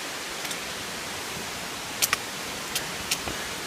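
Constant broadband roar of a waterfall on Tenerife running at a distance, even and unbroken, with a few faint clicks and ticks on top.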